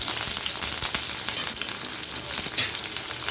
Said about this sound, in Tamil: வெங்காயம், பூண்டு வேகுது